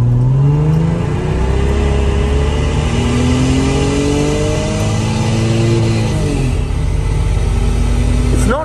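An old Toyota Supra MK3 pulls away from a standstill, its engine note climbing steadily through rising revs, loud and close, before settling near the end.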